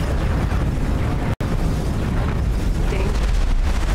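A spaceship takes explosion damage in the X4 Foundations space simulator, a dense, sustained rumbling boom that fills the clip with one brief dropout partway through.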